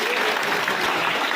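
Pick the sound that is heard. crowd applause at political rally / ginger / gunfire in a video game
crowd applause at political rally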